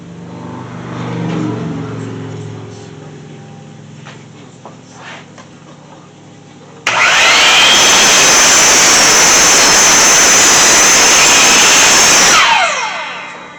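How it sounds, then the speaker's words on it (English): A compound miter saw spins up with a rising whine and cuts through a piece of wood in a loud, sustained roar for several seconds, then winds down. Quieter handling noises come before it. "the compound miter saw didn't cut all the way through it"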